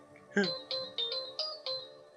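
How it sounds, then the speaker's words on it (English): A phone plays a Power Rangers ringtone: a bright electronic melody of about six evenly spaced chiming notes, moderately faint and heard alone. "Well, it was just a ringtone I have for my phone."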